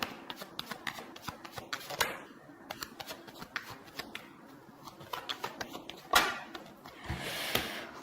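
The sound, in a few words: shuffling tarot cards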